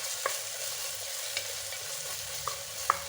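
Homemade ginger garlic paste frying in a pan for mutton soup, a steady soft sizzle with a few light clinks of a stirring spoon against the pan, heard alone.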